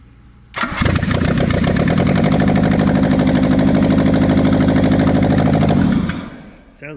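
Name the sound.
Toyota AE86 engine starting with new starter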